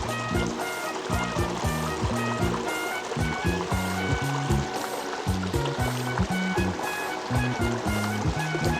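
Water trickles and flows between rocks on a hillside at Bukit Siron in Aceh Besar, a continuous close babbling stream with a rhythmic low gurgling pulse running throughout.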